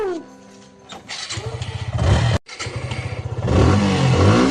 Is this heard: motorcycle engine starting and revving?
yes